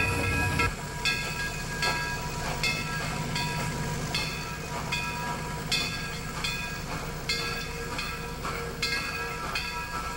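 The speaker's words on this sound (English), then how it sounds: "another Santa Fe Fairbanks Moore switcher moves by" A Santa Fe Fairbanks-Morse diesel switcher locomotive rolls past a Chicago station, its steady engine rumble joined by regular rail clicks and clanks from the wheels, fairly close and steady, with no voices.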